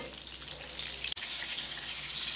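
Brinjal slices fry in hot oil with a steady, close hiss of sizzling that runs throughout, broken by one very brief dropout midway.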